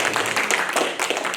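A church congregation at a Korean Sunday worship service gives a brief round of applause to welcome a guest pastor's wife, a dense patter of many hands clapping at moderate loudness.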